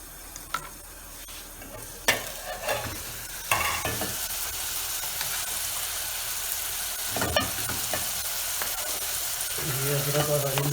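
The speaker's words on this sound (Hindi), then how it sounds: "ये अदरक और हरी मिर्च भी ऐड कर दी हमने।" Ginger and green chillies frying in a pan for egg curry, with a steady loud sizzle and sharp crackles. Scraping stirs break through at intervals, and a rising hiss swells near the end.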